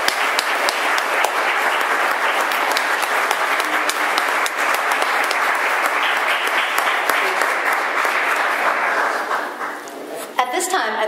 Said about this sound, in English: please let's give them the hearty round of applause that they deserve